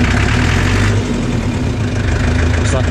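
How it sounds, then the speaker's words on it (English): The engine of a 1978 International 500 bulldozer runs loud and close, with a steady rough idle rumbling throughout and a slight dip in the middle. "So start it, run your RPM up,"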